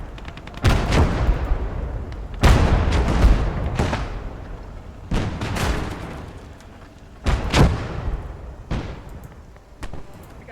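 Mortar fire in the video game Blood Red Snow: five heavy booming shots spaced a second or two apart, each a sharp loud blast trailing into a rumbling decay, with no talk over them.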